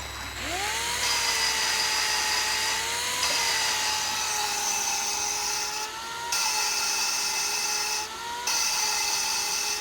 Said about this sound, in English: hook a drill up to it and start spinning it